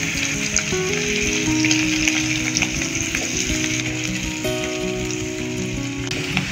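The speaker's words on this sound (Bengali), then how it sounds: "সাদা তেল আর ঘিতে পনিরটা ভেজে নিয়ে" Paneer fries in white oil and ghee in a pan, a loud, steady, dense sizzle that crackles continuously with no talk.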